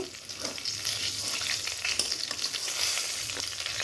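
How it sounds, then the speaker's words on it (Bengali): Turned fish frying in hot oil in a kadai, a dense, continuous crackling sizzle that stays close and fairly loud throughout with no voices. "মাছগুলোকে উল্টে দিয়েছি, ভালোভাবে ভেজে নেব।"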